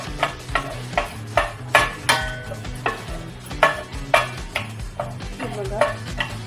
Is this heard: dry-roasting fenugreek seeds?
yes